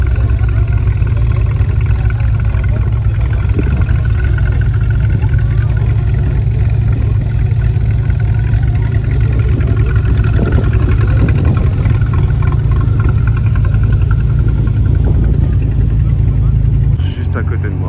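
A 1993 Porsche Carrera RSR GT engine runs close by at the Le Mans Classic, a steady low rumble with constant loudness throughout and brief louder rises, ending with a sudden drop.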